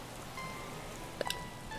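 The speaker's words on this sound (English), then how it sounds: "Look how heavy this downpour is." Heavy in-game rain from Animal Crossing: New Horizons, a steady, even hiss of a downpour filling the whole clip at moderate level, with a couple of brief chimes near the middle.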